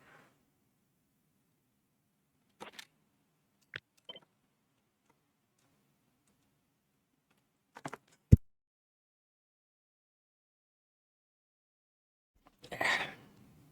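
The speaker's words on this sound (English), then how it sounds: "That was a sneeze." A single short, sharp human sneeze bursts out near the end, loud and close, after a few faint scattered clicks in an otherwise quiet room.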